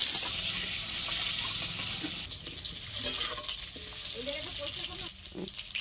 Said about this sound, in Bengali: আলুটা ভাজা ভাজা হলে কুমড়ো শাকটা দিয়ে দেবো